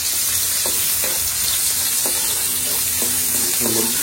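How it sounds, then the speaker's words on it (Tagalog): Onions with garlic sizzle steadily in a hot pan for dinuguan while a utensil scrapes and stirs them in a few brief strokes, the frying hiss constant and close. "Nagigisa pa rin."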